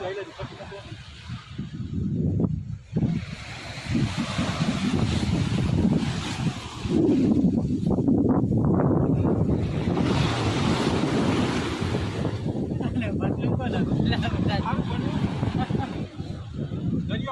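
Sea waves wash against the seashore while strong wind buffets the microphone, a steady, loud rush of surf and gusts throughout, with brief voices mixed in.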